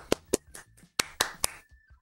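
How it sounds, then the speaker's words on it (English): A few scattered hand claps, about six or seven sharp separate slaps with gaps between them, close and moderately loud, a sparse little round of applause rather than a full crowd. "That round of applause is for you and your patience."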